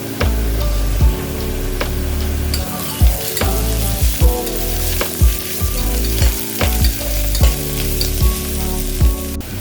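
Onions fry in a pan for Bhimavaram-style mutton keema curry, a steady close sizzle broken by regular scraping strokes of a spatula against the pan throughout, with no voices.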